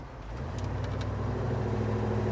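An engine fitted with an Edelbrock 500 carburetor hums steadily while the car cruises along a road, a low, even drone that swells slightly in loudness, with no talk over it.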